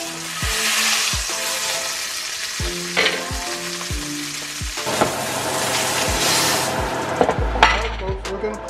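Steaks searing in a hot pan after a butter, garlic and thyme setup, with a steady loud sizzle and frying crackle throughout, punctuated by occasional knocks and clinks of cookware.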